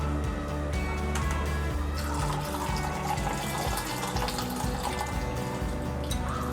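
Coconut milk with kokum is poured through a strainer for Kokan solkadhi, a steady close splashing and trickling of liquid that runs loud and unbroken throughout.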